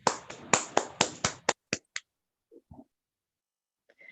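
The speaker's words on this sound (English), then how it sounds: "One more round of applause" Applause from an awards ceremony audience, a run of sharp claps that starts dense and loud and quickly thins into a few scattered claps before falling silent, with faint voices at the end.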